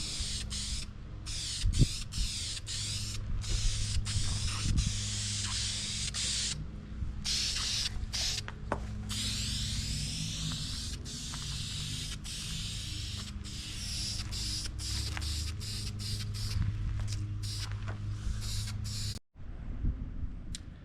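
Spray painting heavy coats onto new aftermarket bumpers for a 4x4 Suzuki Grand Vitara, a steady continuous hiss running nearly unbroken for about nineteen seconds, close and moderately loud, cutting off briefly near the end.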